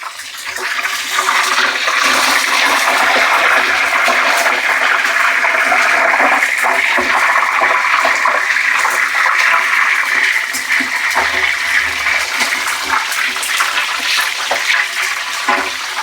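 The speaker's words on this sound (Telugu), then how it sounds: "ఇప్పుడు మనం కొంచెం సాల్ట్ నీళ్ళు వేసుకుందాము." Salted water dropped into hot oil where potato chips are frying, setting off a loud, sustained crackling sizzle close by that keeps going unbroken, with no talk.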